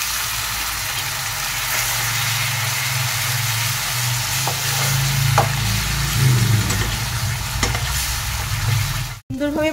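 Onion-tomato masala sizzling in a pan with kasuri methi and a splash of water added for an egg curry, a continuous loud frying hiss with stirring scrapes, swelling briefly when the water goes in.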